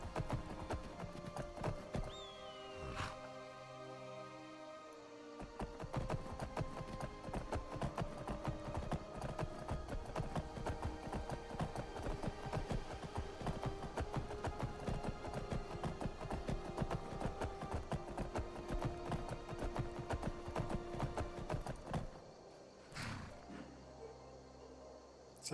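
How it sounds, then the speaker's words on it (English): Shadowmere's hooves galloping in Skyrim, a steady rapid clip-clop rhythm running continuously under game ambience and music for most of the clip, easing off near the end. "Okay, now Shadowmere is going to be our horse."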